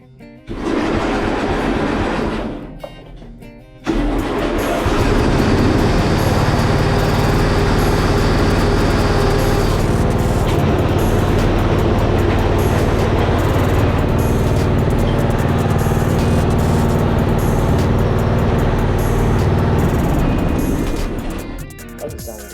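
A racing lawnmower engine cranks briefly, stops, then catches and runs loud and close with a steady, rough, clattering drone before easing down at the end.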